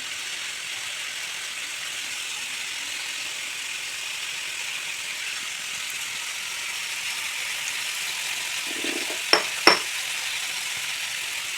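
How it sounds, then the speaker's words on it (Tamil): Onions and tomatoes sauté with salt in a pan, giving a steady, even sizzle throughout, with a couple of brief spoon clinks against the pan near the end and no voices. "நான் கொஞ்சோண்டு சால்ட் ஆட் பண்ணுறேன் அப்போ தான் இந்த வெங்காயமும் தக்காளியும் சீக்கிரமாக வதங்கும்"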